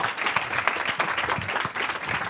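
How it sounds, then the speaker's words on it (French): Audience applause at a startup pitch event, dense steady clapping from a room full of people, moderately loud and continuous throughout. "Vas-y, on l'applaudit quand même."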